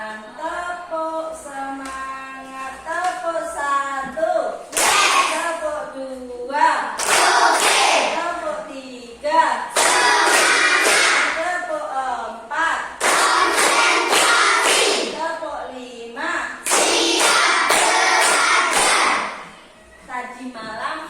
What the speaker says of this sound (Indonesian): Buktikan semangatnya dengan tepuk semangat.